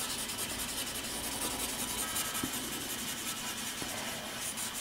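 A blending stump rubs pencil shading on paper, a soft continuous scratchy rubbing close up, faint and steady with no speech.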